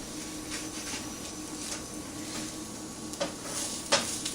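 Potato pancakes frying in a pan on high heat, giving a steady close sizzle with a couple of brief scraping clicks from a utensil.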